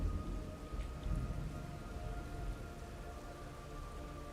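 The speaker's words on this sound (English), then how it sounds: "Ooh, it's raining." Steady rain falls in the stealth game Metal Gear Solid Delta: Snake Eater, a soft constant patter across the whole stretch with a faint low rumble early on and no voices.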